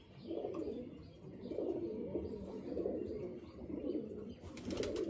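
A male pigeon kept for sale coos in repeated low, throaty bursts, close and steady, with a faint rustle or brief flutter near the end.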